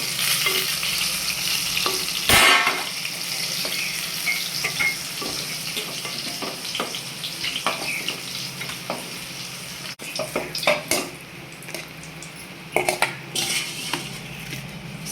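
Eggplants frying in oil in a pan, a steady sizzle broken by scraping stirs and sharp clinks of a utensil against the pan.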